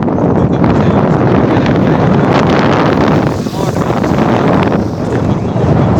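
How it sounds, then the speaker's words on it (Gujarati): Cold wind blowing across an open village landscape roars steadily into the microphone as loud, unbroken buffeting rumble, dipping briefly in the middle before gusting again. "એકદમ ઠંડો ઠંડો પવન આવે છે."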